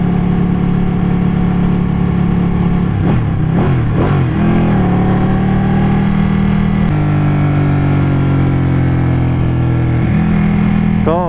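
A Ducati 899 motorcycle in race mode, in fourth gear, pulls with a steady mid-pitched engine drone and a couple of sharp rev swells around the middle, loud and close, with some wind noise.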